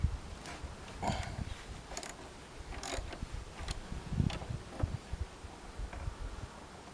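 Wrenches loosen the brake caliper bolts on a Honda CBF125 motorcycle, producing close, faint clicks and ratcheting metal taps in an irregular rhythm with quiet shuffling between them.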